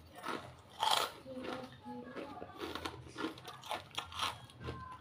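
Fried garlic-flavoured kerupuk puli crackers from Magetan, made without sun-drying, being bitten and chewed close up: sharp, repeated crunches and crackles with a voice murmuring between bites.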